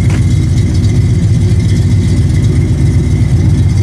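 A 1979 AMC AMX with a 304 V8 and headers exhaust idles loud and close, a steady, throaty low rumble holding evenly without revving, alone with no talk.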